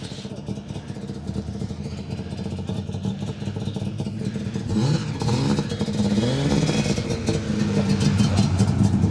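A Lancia Fulvia rally car engine runs steadily near the end of an RAC Rally stage, its mid-pitched note rising and revving louder in the second half, with faint voices underneath.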